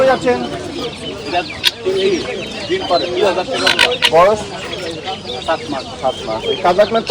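Young chickens cluck and chirp close by at a busy livestock market, amid overlapping voices of people talking and haggling, with scattered bird calls throughout.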